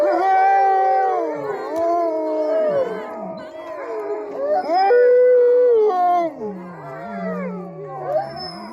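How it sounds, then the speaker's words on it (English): Several dogs howling together, overlapping long wavering wolf-like howls that rise and fall in pitch, loud and sustained throughout. "I don't know if the howling was constant or if it's just dinner time"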